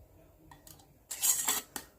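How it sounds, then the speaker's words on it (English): Metal canning jar lids and rings that were boiled earlier clink and rattle together in a short burst of bright clatter up close, after a faint tap or two, with no talking. "Here are the lids and rings that I boiled earlier."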